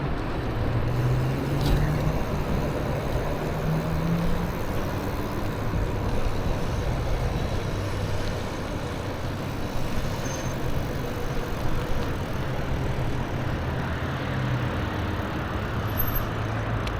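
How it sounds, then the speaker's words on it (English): A race car drives alongside on a city street during a street-takeover style scene, its engine drone steady and close amid dense traffic rumble with no clear peaks. "Got a race car next to us."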